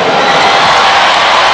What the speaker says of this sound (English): And the Sandy Coffey crowd erupting with delight.